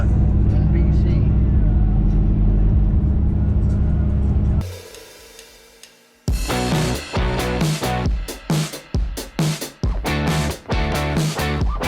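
A big block Dodge Charger barn-find survivor climbs the Coquihalla highway in BC with a steady, heavy engine rumble, then the sound drops away and talking follows.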